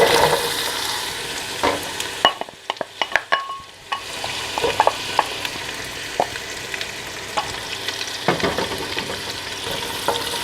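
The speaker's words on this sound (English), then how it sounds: "In my pot I have 2 tablespoons or 48 grams of unsalted butter, and I'm going to add 1 large onion that I chopped up." Chopped onion cooks in melted unsalted butter in a pot, giving a steady close sizzle broken by scattered spoon clacks and stirring scrapes, with a brief quieter gap near the start and no speech.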